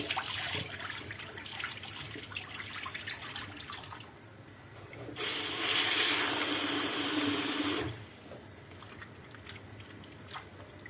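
Running water gushes from a tap for a few seconds as figs are washed, with soft wet handling and splashing sounds and quieter rinsing before and after.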